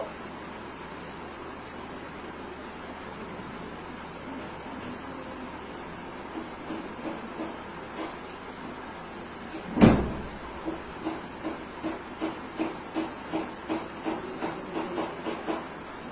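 Fenugreek being stirred into coconut oil, a near silent stretch broken by one sharp knock, then a steady run of light rhythmic taps and scrapes against the bowl, close by.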